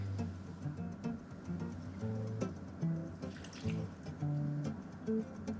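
Water pours into a bowl of rice with pepper, salt and garlic, an uneven splashing and trickling with bright bubbly notes, close and moderately loud.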